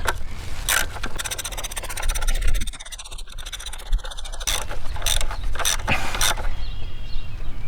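A socket wrench on an extension turns a spark plug in a 2008 Jeep Commander engine during a tune-up, with loud, close creaking, scraping and ratcheting mechanical sounds and brief pauses, without speech.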